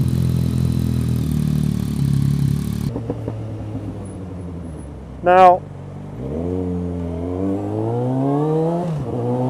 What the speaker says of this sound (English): They had a demonstrator with the Akrapovic exhaust on it. Have a listen to this.